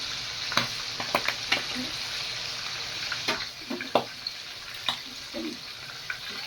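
Liver and gizzards sauté in a pan, sizzling steadily at close range while a spoon scrapes and stirs in sharp, irregular clicks over the continuous hiss.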